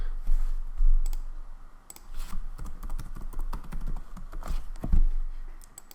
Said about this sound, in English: just type in whatever password it is you want to